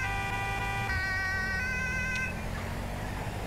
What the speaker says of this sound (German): Sirene ausmachen.